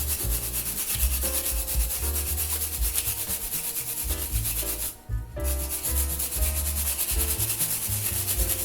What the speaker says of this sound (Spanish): con un cepillito de púas y con alcohol, o si tenéis disolvente muchísimo mejor, le echáis al circuito